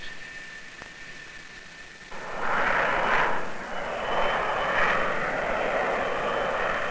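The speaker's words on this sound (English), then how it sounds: "The Rotor Systems Research Aircraft Helicopter will become one of the many vehicles used by scientists and engineers" The NASA Rotor Systems Research Aircraft helicopter flies with a steady whining engine tone, then a louder rushing roar swells in after two seconds and pulses as it passes, heard alone without voices.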